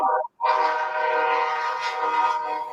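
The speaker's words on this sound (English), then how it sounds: "Train." Train blowing a long, loud, sustained horn nearby, a clear chord-like blast that follows a brief tone and short break and holds steadily to the end.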